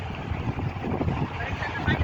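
Strong gusting wind batters the microphone in a continuous low roar, while a voice is faintly audible beneath it.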